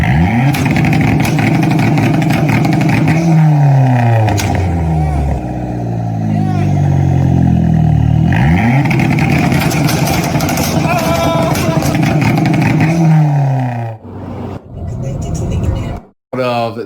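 A car engine being built revs hard out of its exhaust, loud and close, with rising and falling pitch sweeps across repeated throttle blips, then cuts off abruptly near the end.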